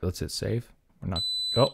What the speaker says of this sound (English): Now we got a little alarm.